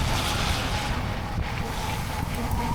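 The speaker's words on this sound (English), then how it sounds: "That wind straight in your face will humble you." Wind blows straight into the microphone outdoors in January, a loud continuous low rumbling buffet with gusty roughness, heard alone for the whole stretch.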